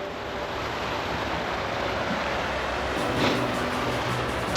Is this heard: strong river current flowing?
yes